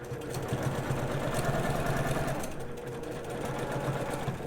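A sewing machine running fast and steadily while free motion quilting a circle border, a close continuous whirring hum that eases briefly midway and then carries on.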